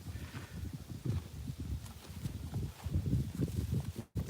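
Small ponies trot past with steady clip-clop hoofbeats while a big dog chases them off, the footfalls close and fairly loud, bunching and thinning in an irregular rhythm.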